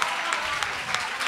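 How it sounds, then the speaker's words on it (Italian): Studio audience at an Italian sports talk show breaking into applause, a dense, steady wash of clapping at moderate level with no voices over it, lasting only a moment. "È bene che ve lo facciate veramente l'applauso"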